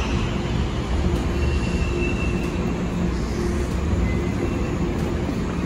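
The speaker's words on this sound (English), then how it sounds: "Stand clear. Train arriving." An airport terminal train arrives with a loud, steady rumble and rolling rail noise, plus a faint high whine, running continuously without talk.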